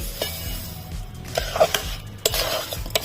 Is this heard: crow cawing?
no